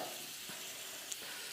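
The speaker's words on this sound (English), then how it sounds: "Now, I'm going to add my butter in." Butter sizzles in a hot pan with eggs, a soft, steady frying hiss that stays faint and even throughout, with one brief brighter crackle near the end.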